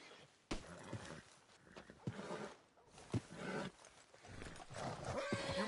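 Horse in Red Dead Redemption 2 snorting and shifting with scattered hoof thumps and movement noises, uneven and fairly close, no one speaking.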